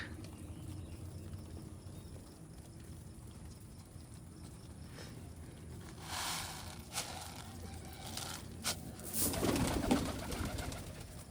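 Rajshahi high-flyer and racing pigeons around a loft, cooing and stirring with bursts of flapping wings growing louder toward the end, over a steady outdoor background and no talk.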